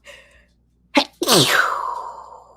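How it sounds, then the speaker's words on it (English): A single loud, close sneeze, preceded by a short sharp intake of breath, with no talking around it. "I'm going to sneeze really quick."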